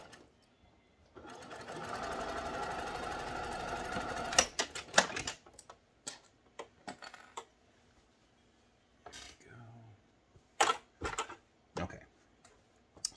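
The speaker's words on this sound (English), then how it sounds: "here I've got the machine. I'm about to stitch around" A sewing machine stitches fabric for a postpartum padsicle in a steady run of about three seconds, followed by scattered clicks, taps and brief handling noises with quiet gaps between.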